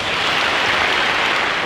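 Concert audience at a music school's 70th-anniversary gala in Škofja Loka applauding, a dense, even wash of clapping heard alone for a moment.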